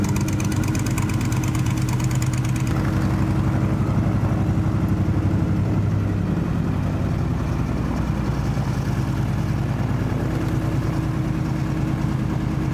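A light aircraft's piston engine idles steadily while warming up before taxi, a loud, even, continuous throb with a rapid pulsing rhythm and no speech over it.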